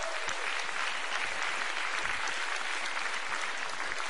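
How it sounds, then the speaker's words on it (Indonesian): Crowd applause at a presidential inauguration ceremony in the Indonesian MPR building, steady sustained clapping from a large audience, moderately loud and continuous. "Kita berikan tepuk tangan."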